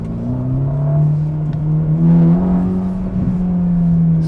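Ferrari Roma sports car engine, a loud close steady low rumble that rises and holds through a rev, with no talking over it.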